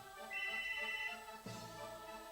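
A telephone rings in the background during a video game session, a steady electronic ringtone tone pattern that shifts partway through, moderately quiet and continuous.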